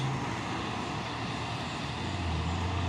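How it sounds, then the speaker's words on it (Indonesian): Pusoren truck labouring uphill, a steady low engine rumble with broad road noise, fairly faint and continuous with no break. "Dan lagi truk Pusoren menanjak ini ya."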